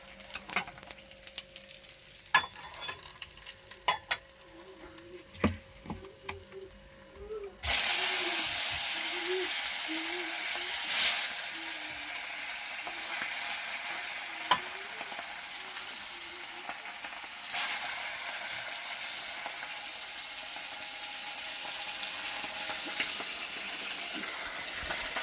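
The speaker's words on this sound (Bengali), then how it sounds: "দেখো এখানে মাছ ভাজা হচ্ছে" Fish rubbed with salt and turmeric frying in a pan, with a steady loud sizzle that jumps up partway through and keeps crackling, broken by a few clinks and stirs.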